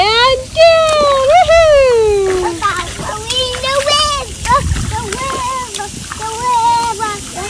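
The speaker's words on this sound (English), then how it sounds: "we took the kids to the splash pad" Water splashes at a splash pad while children shriek and chatter loudly nearby, with high playful voices over a steady spray-and-splatter wash throughout.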